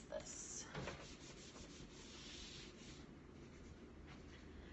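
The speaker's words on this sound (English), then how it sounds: "let me erase this" A board being wiped with an eraser, soft rubbing strokes near the start followed by a steady, quiet scraping hiss, close up.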